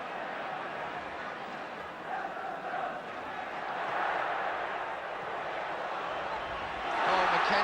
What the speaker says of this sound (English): Oh, McKenzie, the crowd enjoyed that